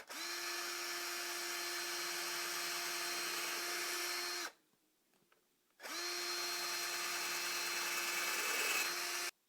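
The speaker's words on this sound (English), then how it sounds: "I'm drilling the holes through so that I don't split this wood" A power drill bores angled holes through a wooden board for a homemade carpet knee kicker: two long, steady, whining runs of several seconds each, split by a short pause, loud and close with no talking.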